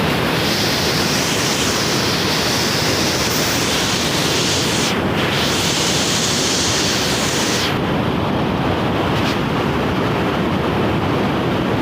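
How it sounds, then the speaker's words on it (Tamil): Water rushes forcefully past a roadside spot on a bike ride from Anthiyur to Erode, a loud, steady broadband roar that fills the whole stretch with a brief dip partway through and no talking. "ஆனால் தண்ணி பயங்கரமாக போகுதுங்க."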